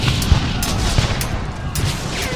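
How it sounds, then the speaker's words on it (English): Musket and cannon fire in an eighteenth-century battle between British forces and Lauzun's Legion, with a rapid series of sharp reports and dull booms crackling over a continuous rumbling background. "As the loud reports of the British guns filled the air"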